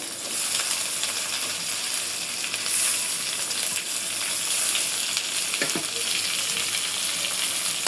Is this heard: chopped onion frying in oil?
yes